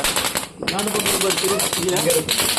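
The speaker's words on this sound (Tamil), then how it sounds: "இது வந்து 60 ஷாட்டு. இப்போ பெரிய வெடி வைக்க போகிறாங்க" A 60-shot Diwali firecracker fires in a rapid, crackling burst of pops after a brief pause, with a dense, fairly loud rattle of repeated reports and people talking over it.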